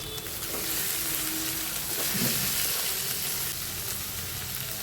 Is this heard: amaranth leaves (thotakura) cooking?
yes